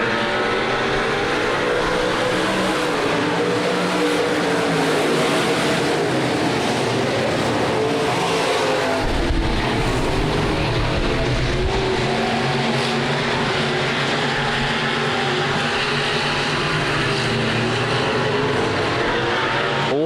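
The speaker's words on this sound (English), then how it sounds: "Roger Verdorn to the inside of Mark Vanetop, racing for 5th" Race cars roar around a dirt speedway during a nationals night race, a dense continuous engine drone that swells and fades as the pack passes, loud throughout with crowd-level ambience and no clear talk.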